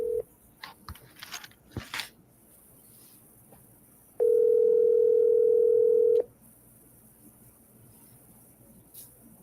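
A steady telephone tone sounds alone for about two seconds mid-clip, a call ringing through to voicemail, framed by faint clicks and muffled background noise.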